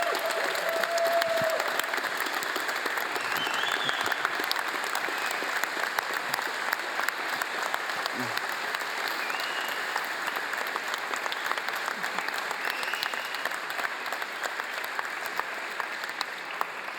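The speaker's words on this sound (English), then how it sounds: "So I think the biggest round of applause has to go to Roberto." An audience claps through the close of a Java conference keynote, producing sustained, dense applause from a large crowd at a steady level, with no speech over it.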